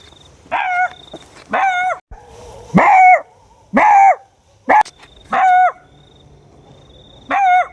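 Dogs bark at night in sharp, loud bursts, about seven close barks at irregular intervals with brief quiet gaps and a short yip among them.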